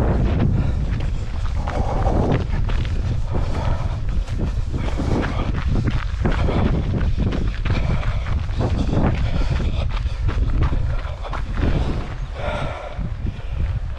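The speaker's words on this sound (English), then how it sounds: "It's quite windy, it's not cold." Strong wind blows steadily outdoors in the open valley of Tavy Cleave on Dartmoor, buffeting the microphone with loud, continuous low rumbling and gusts throughout, no talk.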